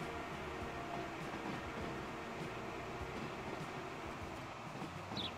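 A train rolls into a station in the Transport Fever 2 video game, a steady rumbling and rail noise that runs continuously at even loudness throughout.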